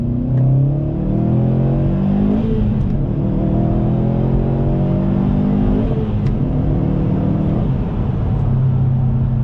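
A turbocharged 2020 Subaru WRX STI accelerates hard, its engine climbing through the revs with brief dips at gear changes. The roar is loud, close and continuous throughout, with no talk.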